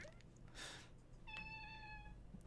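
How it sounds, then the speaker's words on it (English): A cat meows once in a drawn-out, harmonic call lasting about a second, fairly clear against a steady low background hum, preceded by a brief noisy burst. "Cat?"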